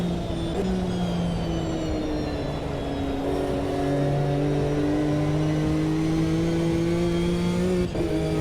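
GT2 race cars running on wet tyres in a historical endurance racing video game, their engines producing a steady, continuous drone with sustained harmonic tones that rise and fall gently. No voices are heard.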